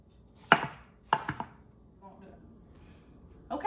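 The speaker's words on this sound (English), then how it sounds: "I'm gonna cut this zucchini just into about 1/2 inch rounds" A knife chops a zucchini into rounds on a cutting board, giving a few sharp, close chopping knocks spaced irregularly, with a faint voice in the background.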